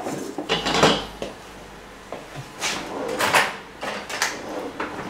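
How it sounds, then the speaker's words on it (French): Meringue whisked by hand in a bowl, heard as irregular clinks and scrapes of metal against the bowl in short bursts with brief pauses, close and fairly loud. "pour être sûr d'avoir une meringue bien mélangée, je préfère le faire à la main"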